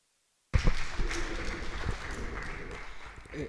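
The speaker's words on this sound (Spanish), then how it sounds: "Lo recibimos con un aplauso." An audience applauds to welcome an ambassador at a diplomatic history lecture, with steady clapping that starts abruptly and carries on evenly for a few seconds in a room.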